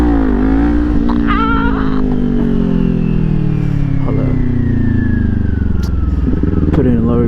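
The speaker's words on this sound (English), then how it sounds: "I'm gonna just practice my wheelies here." A 2022 Kawasaki Ninja 400 with a LeoVince slip-on exhaust revs loud and close, its engine note rising and falling steadily while the rider practices wheelies, with a voice talking over it at moments.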